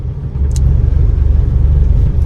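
A car cruising in fourth gear at about 40 km/h, a steady low engine and road rumble droning close and even throughout, with no talk over it.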